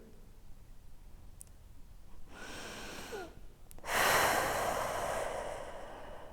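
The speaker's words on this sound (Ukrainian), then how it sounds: "Вдих." A long deliberate inhale during a pelvic floor breathing exercise, heard close as airy, hissing breath that swells in two stages and grows strongest near the end, with no talking.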